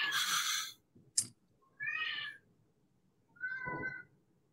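A cat meowing in three separate, fairly loud calls: a long opening yowl, a short sharp chirp, then two drawn-out meows with pauses between, heard alone without talk.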